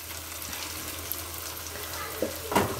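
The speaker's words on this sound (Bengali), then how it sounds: "আলু পেঁয়াজ লঙ্কা একসাথে ভাজা করছি নুন হলুদ দিয়ে" Potato, onion and chilli fry in a pan with salt and turmeric for spicy semolina, giving a steady soft sizzle throughout, with a few louder stirring clatters near the end.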